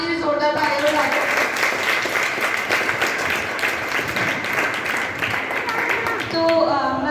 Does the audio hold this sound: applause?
yes